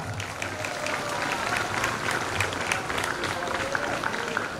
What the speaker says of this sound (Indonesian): Berikan aplaus kepada Muhammad Irfan.